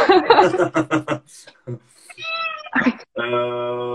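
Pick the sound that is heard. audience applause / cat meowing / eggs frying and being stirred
cat meowing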